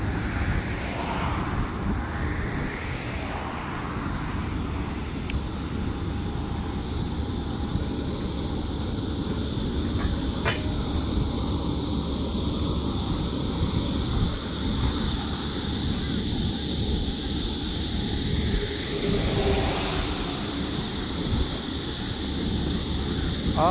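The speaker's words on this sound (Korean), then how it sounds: "오른편 공장에서 내뿜는 소리인데. 뭐, 제트 엔진처럼 막 뿜습니다," A factory across the Nakdong River estuary vents with a loud, steady, jet-like roar, heard outdoors from a riverside walking path in fog alongside wind noise throughout.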